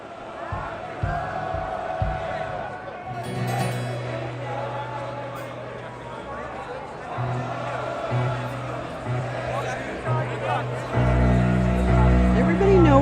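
Crowd noise from a street march toward Whitehall in London, a broad murmur of many voices with shouts and a rise in volume near the end, mixed with nearby talk and a steady low hum.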